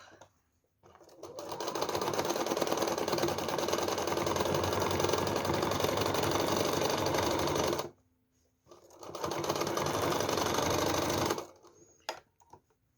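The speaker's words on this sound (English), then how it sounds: "now I will just want to stitch those two together" A sewing machine stitches two patchwork belt pieces together in two long runs of fast, steady whirring, separated by a brief pause, then a few soft handling clicks.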